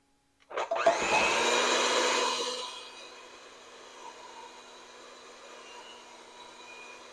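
An electric mixer beats cake batter with eggs and sugar, a loud whirring motor drone for a couple of seconds that then drops to a lower, steady hum.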